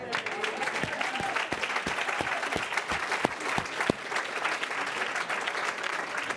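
Sustained audience applause fills a large hall during a youth and workforce challenge finals event, a steady dense wash of clapping with a few sharper individual claps standing out near the middle.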